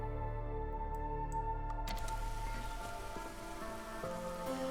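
A rain engine in the Against the Storm video game runs as a steady patter of rain, layered over sustained low game tones, continuous and even with no talk.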